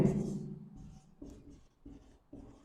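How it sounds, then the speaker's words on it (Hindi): Chalk or marker writing on a classroom board, a series of short scratchy strokes in bursts with brief pauses, close and fairly quiet, no talk. "तो हम यहां पर भी लिखते हैं"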